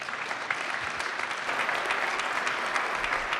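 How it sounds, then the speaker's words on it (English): An audience at a startup pitch event breaks into a steady round of applause, many hands clapping in a dense, lively wash with a few sharper claps standing out. "Go ahead and give them another round of applause for these guys"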